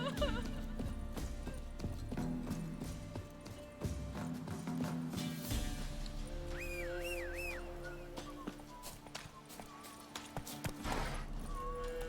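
Hoofbeats of Roach, the horse in The Witcher 3: Wild Hunt, clip-clop steadily over a game soundtrack with occasional whinnies, while a voice comments briefly.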